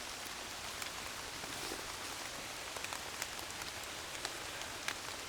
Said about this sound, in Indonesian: Hujan ini mas